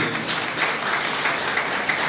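An audience in a packed community hall in Jamnagar claps together. The applause is a dense, steady patter that runs unbroken and fairly loud throughout.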